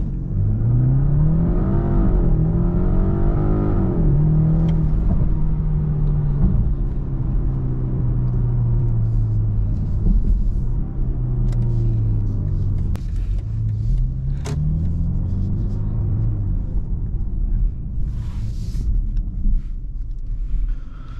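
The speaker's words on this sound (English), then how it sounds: "so we're gonna do one last launch control right here" A 2026 BMW 5 Series M Sport does a launch control start in Los Angeles, the engine droning loud and close from inside the cabin as revs climb and shift through several gears over about twenty seconds, with no talk.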